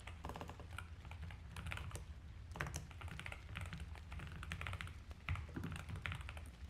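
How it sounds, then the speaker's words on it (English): Quiet, steady typing on a computer keyboard: a continuous run of light, irregular key clicks and taps at a fairly low level, with no voices. "The background sounds so relaxed, like the keyboard ASMR things"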